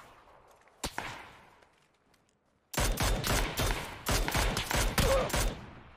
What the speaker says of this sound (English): Who are they shooting?